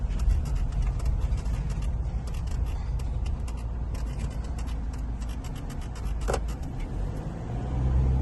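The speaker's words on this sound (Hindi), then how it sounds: "मैं इतनी गाड़ी परफेक्ट चला रही हूँ 3 साल के बाद" A car being driven on a road, its steady engine and road rumble filling the space continuously, with a brief squeak partway through and no talk.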